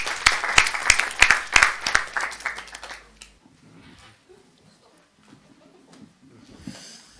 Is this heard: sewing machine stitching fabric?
no